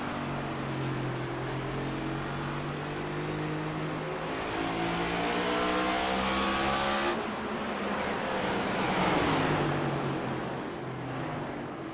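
Cup Series race cars in the iRacing game roar around North Wilkesboro, with layered engine drones rising and falling in pitch as cars pass close by, loud and continuous with no talk.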